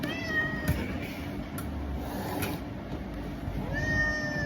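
A difficult cat being given medicine without food lets out a drawn-out, wavering meow near the start and another whining meow near the end, over steady low background noise.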